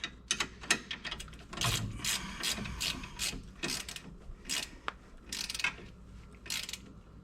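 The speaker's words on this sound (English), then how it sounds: "let's just get them tightened up." Ratchet clicking in short repeated bursts while tightening bolts during a front wheel bearing replacement on a 2009 Ford Escape, close and fairly loud with brief pauses between strokes.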